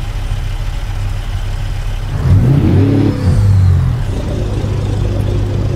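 Caterpillar C15 diesel in a Peterbilt 389 truck, game engine sound, pulling off under a 48,000-pound load: a steady low idle rumble swells into a louder revving climb for a couple of seconds, then settles back to a drone.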